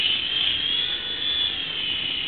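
A remote-controlled toy mini helicopter, a $40 model, flies with a steady high-pitched electric whine of its small rotor and motor, close and continuous throughout with no talking.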